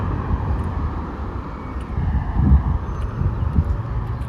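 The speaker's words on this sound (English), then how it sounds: "I hear a jet over here." A distant jet drones overhead, a low steady roar with faint thumps and shuffling footsteps close by.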